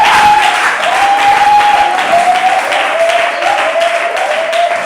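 A church congregation applauds and acclaims Jesus during worship, with dense, steady clapping throughout and a sustained held tone ringing over it.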